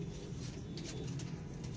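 Pigeons coo on a rooftop, a low, soft, rolling murmur that continues steadily throughout the short stretch with no voices.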